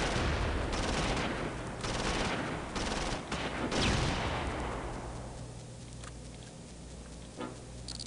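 Rapid gunfire bursts and machine-gun rattle from the war game Close Combat, Normandy beach invasion, loud and dense for about four seconds before thinning into scattered, fading distant shots.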